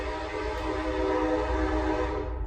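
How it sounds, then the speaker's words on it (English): A train passes near a woodworking shop, sounding a long, sustained multi-tone horn over a low rumble of rolling wheels. The blast holds steady throughout, moderately loud, with no voices. "That's the train."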